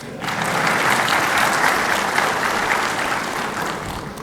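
Steady, loud audience applause fills a ceremony hall, a dense continuous clapping that swells quickly and holds evenly throughout without any talk over it.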